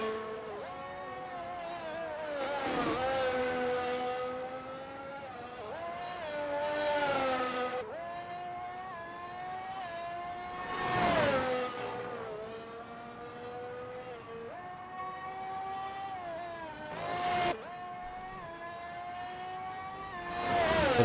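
Formula 1 race car on a flying lap in a 2001 Australian Grand Prix racing game, a high-pitched engine whine rising and falling through gear changes, with sharp upshifts and braking downshifts, continuous and close.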